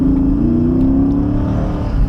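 A Chrysler 300 V8 muscle-car engine revs close by, a loud, deep, steady drone that climbs slightly in pitch, with no talking.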